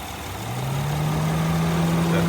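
A 2016 Honda Odyssey Touring Elite minivan's 3.5 liter V6 idles smoothly under the open hood, a steady close-up engine hum with a faint whine slowly rising in pitch.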